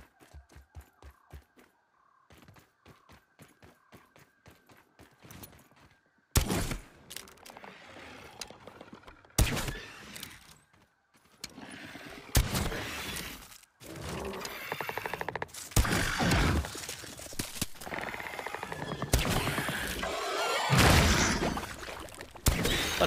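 Small bombs burst in the video game Grounded, several loud sharp blasts and crackling clusters breaking over quieter mechanical clicking, growing denser and more continuous toward the end.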